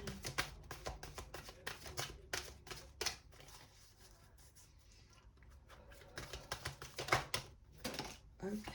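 Tarot cards being shuffled by hand, rapid riffling bursts and soft flicks in uneven clusters, close and moderately loud, with a quieter pause in the middle and no talking over them.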